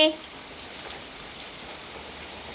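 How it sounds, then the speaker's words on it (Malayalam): Steady rain falls, a constant soft hiss of drops on surfaces, with no other sounds standing out. "രാവിലെ മഴയാ, പുറത്തു പോകാൻ പറ്റില്ല അല്ലേ?"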